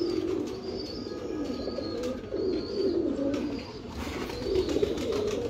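A 7 star pigeon coos in repeated soft low phrases, steady and rhythmic, close by with faint outdoor background and a few light chirps from other birds.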